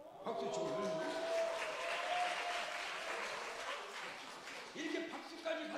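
Church congregation applauding during a Sunday worship service, a dense sustained wash of clapping with voices murmuring underneath and some tonal sound in the background.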